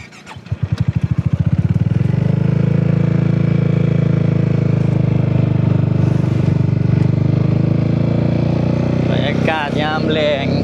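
Motorcycle ridden along the Mekong River in Thailand, its engine droning loud and steady throughout after a brief rev-up at the start, with a high chattering sound near the end.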